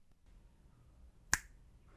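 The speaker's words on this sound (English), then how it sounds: "I will click on this side and this far away from the microphone for each mode" A single sharp finger snap rings out close by, crisp and bright against near silence, recorded by a microphone in one of several pickup modes.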